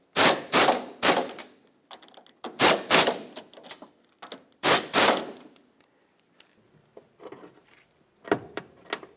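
Ratchet tightening small 12 mm nuts on a 2008–2012 Honda Accord upper control arm, crisp clicking strokes in short back-and-forth bursts with pauses, close and clear.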